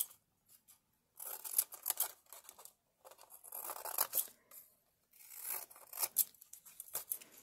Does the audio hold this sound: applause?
no